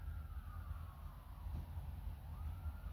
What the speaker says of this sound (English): This siren is louder.